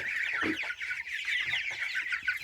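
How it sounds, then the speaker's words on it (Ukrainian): A cross R3A hen with chicks from crested crossbred hens, the chicks keeping up a dense, continuous high peeping close by, with a few low clucks underneath. "Це курочка наша кросу R3A і курчатка від моїх помісних чубатих курочок"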